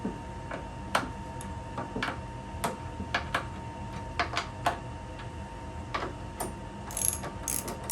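Ratchet wrench tightening bolts on removable farm table legs, fitted through clearance holes into threaded inserts in wood. Close, quick bursts of clicking repeat in irregular runs, with short pauses between strokes.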